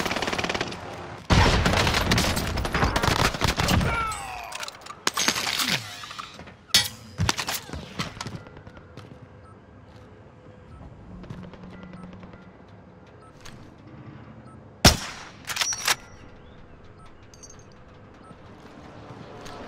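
Video game firefight with loud rapid automatic bursts at the start, then sparse sharp single shots and distant pops, one more loud crack near the end, no talk.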